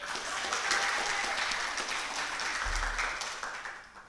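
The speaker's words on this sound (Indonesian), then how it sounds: "Ya, tepuk tangan untuk Kang Yanto Oce." Audience applause at a debate of three Tasikmalaya mayoral candidates, a dense, steady crowd clapping that fills the whole stretch at a fairly loud, even level, with a brief low thump near the end.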